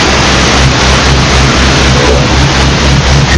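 Renault Premium 380 truck engine with a 12-speed gearbox revving in a truck driving game, a loud steady diesel drone with a pulsing low rumble throughout, heard alone.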